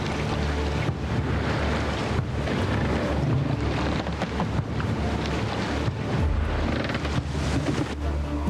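Ocean waves surge and wash steadily in the Roman-era city-building video game Anno 117, with wind noise and a sailing-ship ambience. The rush is continuous, with swells every second or two, and no voices.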